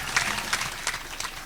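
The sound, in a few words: audience applause for the Catholic University of Buea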